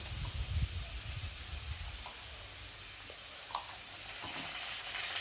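Spices with ginger paste, chili powder, salt and turmeric fry with potatoes in a pan, giving a steady close sizzle and hiss with a few stirring scrapes early on.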